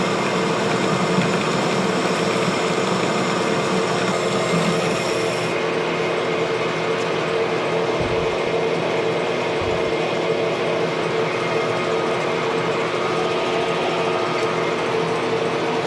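A lathe bores out a back plate hub with a steady mechanical hum and whine that holds evenly for about sixteen seconds, with a couple of faint low thumps partway through and no speech.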